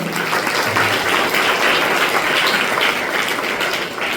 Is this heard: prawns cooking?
no